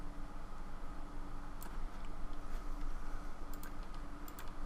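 Keys pressed on a computer keyboard give a few sharp, isolated clicks over a steady low hum and background hiss, faint and sparse, with no talking.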